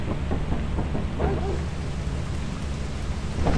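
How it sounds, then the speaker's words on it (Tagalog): Steady rain fills the scene in the video game Lethal Company, a constant broadband hiss with faint scattered taps throughout, heard without voices. "Umuulan eh."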